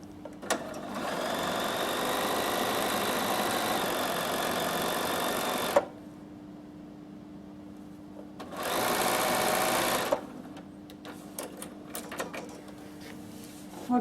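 A Bernina 7 series sewing machine stitches appliqué in two steady runs, a long one of about five seconds and a shorter one after a pause, each a close, even motor whir with no voices.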